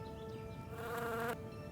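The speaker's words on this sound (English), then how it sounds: "These honeybees really enjoy our lavender flowers" Honeybees buzzing around lavender flowers in a warm backyard, heard as a steady insect drone that swells louder and closer for a moment before easing back.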